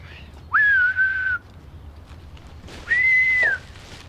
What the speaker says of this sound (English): Well, whistle then.